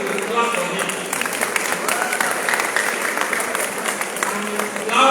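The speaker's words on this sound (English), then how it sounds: "I thought it was clap for him." An audience at an induction ceremony for newly qualified doctors breaks into applause, a busy patter of many hands with some voices mixed in, continuing steadily throughout.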